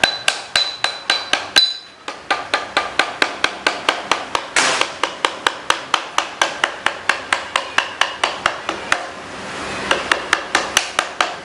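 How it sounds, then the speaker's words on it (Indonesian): Parts of a Predator double-tube air rifle are tapped with a hammer during assembly, a long run of sharp, evenly spaced knocks close to the microphone, with a brief pause early on and no voices. "kita pukul pelan saja biar tidak merusak bagian pada senapan"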